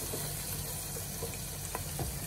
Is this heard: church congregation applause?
no